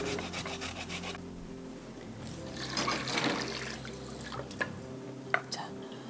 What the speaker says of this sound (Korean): 무는 살짝 매운맛 제거하기 위해서 이렇게 물에다가 살짝 헹궈 주시고